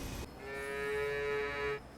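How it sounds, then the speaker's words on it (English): Cattle mooing in the railway game Train Sim World 3 on the Peak Forest line: one long, drawn-out, tonal moo that swells and holds steady before cutting off, heard alone at moderate loudness. "Oh, moo! Happy moo-moos."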